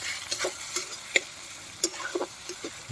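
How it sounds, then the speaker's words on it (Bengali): Chicken curry masala with chili powder being stirred and fried in a pan at home, with scattered spoon scrapes and clicks over a faint, steady sizzle. "গুঁড়ো লঙ্কাটাও দিয়ে দেবো, দিয়ে সব মিলিয়ে কষিয়ে নেব"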